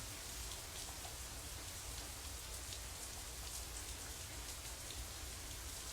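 Steady rain pours down, a dense continuous hiss with scattered drops pattering on surfaces, soft and even throughout.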